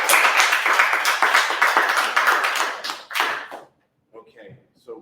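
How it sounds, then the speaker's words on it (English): Applause from a seated audience at a business seminar, a dense patter of many hands for about three and a half seconds, then dropping to a few scattered quiet claps and faint murmurs. "Let's give her a round of applause."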